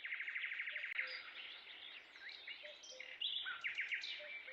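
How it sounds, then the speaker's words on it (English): Birds chirping and trilling loudly and continuously in the video game Beyond The Edge Of Owlsgard, several overlapping calls with rapid tweets and whistles, nearby and with no talk over them. "those birds are hella fucking loud"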